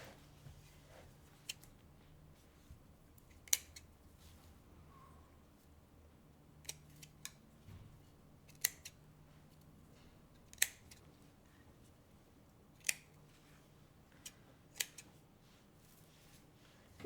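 Scissors trim a painted terracotta pot scarecrow craft, giving sparse, faint, crisp snips spaced a second or more apart over a quiet room background, with no talking.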